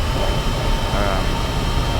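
Jet engine of an FFA P-16 aircraft in a video game, a steady whooshing roar while it speeds along a runway, with someone talking over it throughout.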